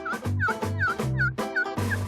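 Repeated wild turkey gobbles, loud and close, several rapid bursts in a row with a warbling, rattling quality and no talking, during a spring turkey hunt in Quebec.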